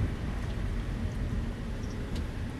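Steady rain falls outdoors as people leave a house, a dense continuous hiss with low rumble, fairly loud and unbroken.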